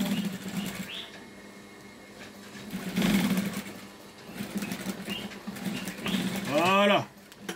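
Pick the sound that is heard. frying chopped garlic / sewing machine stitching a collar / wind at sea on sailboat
sewing machine stitching a collar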